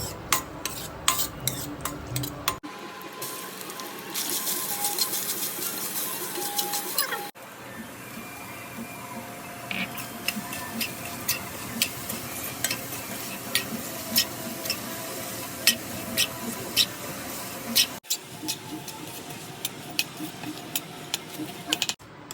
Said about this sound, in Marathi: इथे मी गुळाची पावडर घेतली आहे आणि गुलकंद ड्रायफ्रूट असं थोडस आपण परतून घेऊया